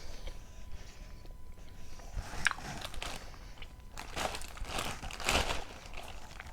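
Crunchy biting and chewing of a hard treat, close and fairly quiet, with irregular crisp crunches and crinkles building toward the end.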